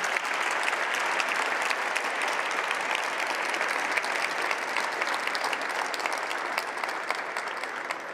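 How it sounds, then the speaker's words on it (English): A large audience claps in a full, sustained round of applause after an investing talk at a Wharton event, loud and even from start to finish, with no speech. "Let's give him a round of applause."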